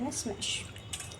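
Steamed, peeled potatoes being mashed for aloo matar, with bright metallic clinks and scrapes of a utensil against a vessel in short bursts, close up, and a brief voice at the start.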